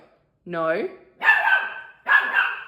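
A puppy close by gives a rising, high-pitched whimper, then two sharp, loud barks in quick succession, indoors during a slow-stitch quilting session.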